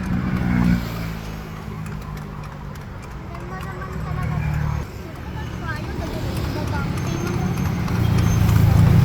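Horse hooves clip-clop steadily while pulling a kalesa carriage along a street, the rhythmic clatter continuing throughout under people talking, with traffic rumble in the background.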